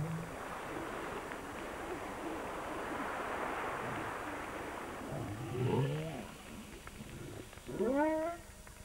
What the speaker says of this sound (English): the underwater microphones, or hydrophones, anchored in the bay, constantly filled the hut with whale sounds